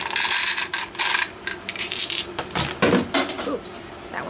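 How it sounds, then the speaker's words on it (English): Dice are drawn and tossed onto a surface, giving a run of close clattering, rattling clicks and small impacts that bunch into a louder scatter midway through. "Let's draw some dice and see what we get."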